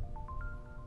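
A short chime of rising tones steps upward quickly, a ride-hailing app notification in a video game, fairly faint over a low background rumble.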